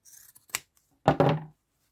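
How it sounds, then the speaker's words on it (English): Pinking shears trimming the edge of quilted fabric: a few faint snips, then two louder crunchy cuts close to the mic, alone in a quiet room. "And you can trim that out with pinking shears."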